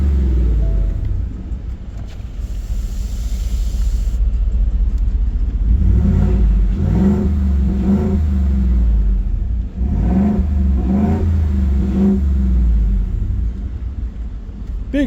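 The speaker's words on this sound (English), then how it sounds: "That Corsa exhaust, you can listen to it a little bit." A lowered 2024 Ford F-150 regular cab 5.0 V8 with a Corsa exhaust rumbles loudly at idle, then revs several times in short bursts, the low burble rising and falling close by.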